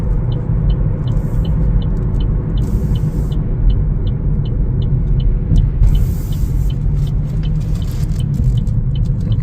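A 2025 Chevrolet Trax 1LT driving and making a left turn, a steady cabin road rumble and engine drone with a crisp, regular turn-signal ticking running throughout, loud and without speech.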